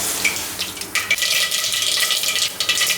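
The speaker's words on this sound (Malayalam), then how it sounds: "എണ്ണ ചൂടാകുമ്പോഴത്തേക്ക് കുറച്ച് കടുക് ഇട്ട് കൊടുക്കാം" Mustard seeds splutter in hot oil while Kerala chicken curry is prepared in a pressure cooker, giving a loud, dense sputtering hiss with sharp bursts of crackling.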